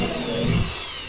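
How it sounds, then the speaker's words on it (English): An electric drill with a 3/16 bit boring rivet holes, a short steady whir that swells briefly in the middle, close and alone with no talk. "That's a 3/16 drill right there, because I'm using 3/16 diameter rivets."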